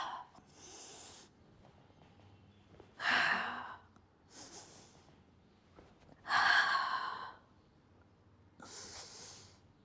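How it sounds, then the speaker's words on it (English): Two strong, deep exhales during a yoga breathing exercise, each a loud airy rush, with softer breaths in and out between them and no talking. "Exhale."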